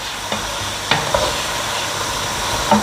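Fish frying in a small amount of coconut oil, a continuous close sizzle and hiss with a few sharp scrapes and taps of a spatula stirring in the pan.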